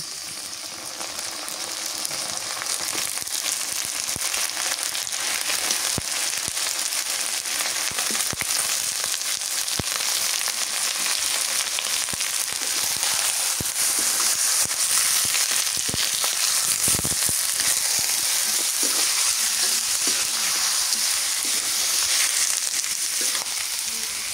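Chicken meat frying in a pan, a continuous loud sizzle with crackling pops and occasional stirring scrapes throughout.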